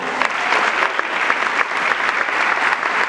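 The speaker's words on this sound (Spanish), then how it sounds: "Un fuerte aplauso para Juan Curiel," A stand-up comedy crowd gives a comedian a strong round of applause, a loud, continuous wash of clapping with a few sharper individual claps standing out.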